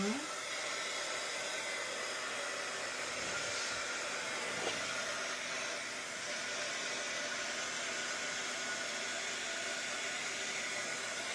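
A hair dryer drying the ink on a number stamp, a steady close whooshing blow that runs unbroken and fairly loud from start to finish with no talk.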